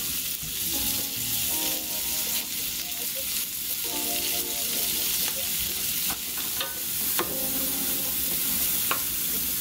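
Mirepoix vegetables sizzle in a hot pan for a seafood pie base, a steady close frying hiss with occasional scraping and stirring knocks, no voices.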